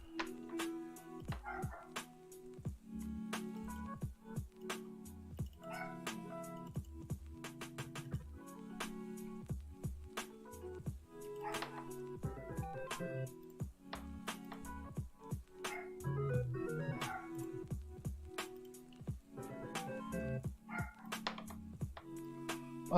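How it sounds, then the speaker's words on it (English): A pet dog barks repeatedly in short yipping bursts through a stretch of about twenty seconds, fairly close and clear, with no talking over it. "My dog is barking."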